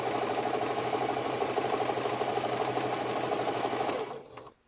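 Sewing machine running continuously while stitching a straight seam on a large mug rug, a steady rapid whirring hum that slows and stops near the end.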